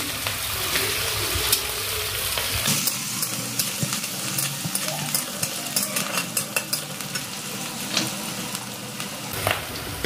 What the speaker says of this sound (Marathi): लगेच मिरच्या त्यामध्ये टाकून घ्यायच्या, व्यवस्थित परतून घ्यायची